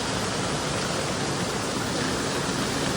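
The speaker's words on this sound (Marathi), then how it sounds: "काम जोराम पाऊस आलाय" Heavy monsoon-style rain pours down steadily in a dense, unbroken hiss that stays loud and even for the whole stretch, with no voices over it.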